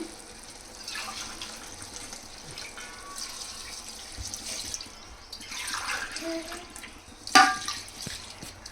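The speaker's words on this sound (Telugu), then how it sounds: "నేను నానబెట్టుకున్న ఈ బాస్మతి రైస్ ఉన్నాయి కదా, ఆ వాటర్ వేసేసుకుంటున్నాను" Water saved from soaking basmati rice is poured into a cooking pot for chicken pulao, a soft, faint splashing trickle in a few uneven bursts with a brief sharper clink near the end.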